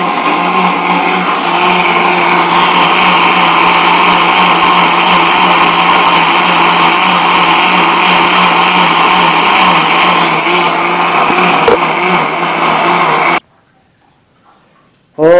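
A kitchen blender grinds papaya leaves, shallots and garlic into a paste for a herbal remedy, a loud steady whirring drone that runs unbroken before cutting off abruptly near the end.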